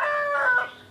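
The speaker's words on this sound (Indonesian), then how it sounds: "Wah, ramenya saut-sautan. Kamu nih yang rajin keluruk." A rooster in an afternoon coop lets out a brief, loud crow close by, a single sustained call that fades quickly.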